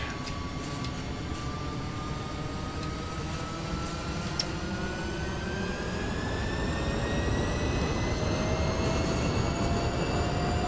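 An MD-11's jet engines run while taxiing in the X-Plane 12 flight simulator, a steady loud roar with rising whining tones that climb in pitch throughout.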